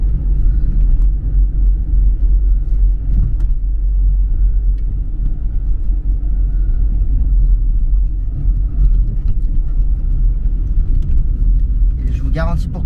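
A Peugeot 205 engine running cold with the choke after a head gasket replacement, a deep, steady, close idling rumble throughout with a faint brief voice near the end.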